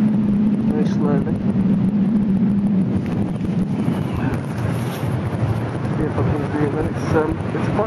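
Steady wind buffeting the microphone with a constant low rumble while paragliding on South Barrule, Isle of Man, continuing throughout with a voice faintly audible beneath it.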